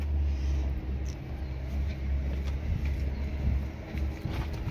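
A used car's engine idles at a Saudi Arabian used car market, a steady low rumble that holds close and even throughout, with no voices.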